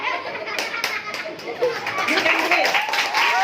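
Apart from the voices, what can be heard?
students clapping in classroom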